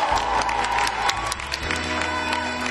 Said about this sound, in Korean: 팬들 뭐 환호하나 하실 겁니까?